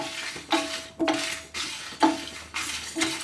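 Cumin, black pepper, coriander seeds and dry red chillies dry roasted in a pan, stirred with a metal spoon in regular scraping strokes about every half second, each stroke a rattling scrape against the pan.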